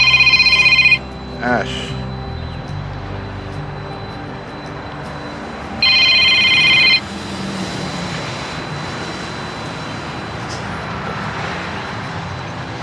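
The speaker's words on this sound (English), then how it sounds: "Now the phone's ringing." A telephone rings in two electronic bursts, one at the start and another several seconds later, fairly loud over a steady aircraft-like hum, with a brief word spoken in between.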